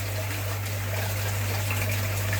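Steady, continuous rush of water gushing during a fish pond water change, close and fairly loud with a constant low hum underneath and no talk.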